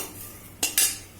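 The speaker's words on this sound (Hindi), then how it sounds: "खड़ा धनिया, इसको भी भून लेंगे थोड़ा सा।" Whole coriander seeds roast in a pan, with two quick, bright scraping stirs of a utensil against the metal, close and brief.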